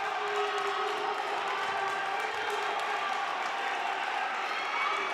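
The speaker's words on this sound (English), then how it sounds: "that fires up the Milford crowd all the more. And the cheers led by the members of the boys basketball team" The Milford crowd at a girls' high school basketball tournament game roars with sustained cheering led by the boys' team, a dense and steady wall of shouting and noise filling the gym.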